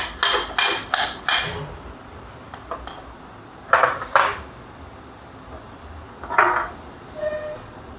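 Light hammer taps knock the shaft out of a CROP-TIGER dual-stage gearbox motor during dismantling: a quick run of four sharp metallic strikes, then scattered softer taps and a few isolated knocks, close and clear with no talk.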